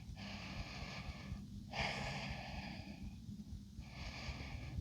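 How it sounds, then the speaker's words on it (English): Slow, deep breaths during a yoga practice, with long airy inhales and exhales rising and falling in a steady rhythm, close and fairly faint, with no talking. "Breathing."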